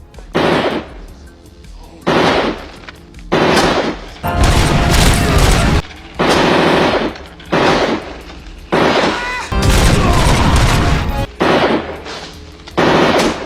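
Loud gunfire from RoboCop's pistol in the Robocop: Rogue City video game, firing in repeated bursts of roughly a second each with short gaps between, close and punchy throughout.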